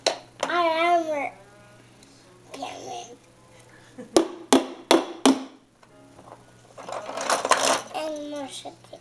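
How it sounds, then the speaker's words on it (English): A child bangs a toy hammer from a new toy tool set, giving four sharp knocks in quick succession near the middle, with a child and an adult talking before and after. "A hammer."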